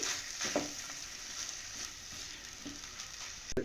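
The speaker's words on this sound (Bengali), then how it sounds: "ভালোভাবে আলুটাকে সবজির সঙ্গে বা মশলার সঙ্গে ভেজে নিতে হবে" Mashed potato frying with vegetables and spices in a pan: a faint, steady sizzle broken by occasional stirring scrapes and light taps, nearby with no talk.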